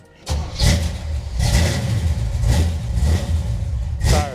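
A 1972 Chevrolet Nova with a 4-speed cranks and fires up, then its engine is revved several times in loud, close bursts, each surge rising and falling back toward idle.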